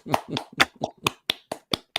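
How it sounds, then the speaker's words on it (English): A short burst of clapping, about nine distinct sharp claps in a steady rhythm, close and fairly loud, with no voices. "Round of applause for Steve Kulls."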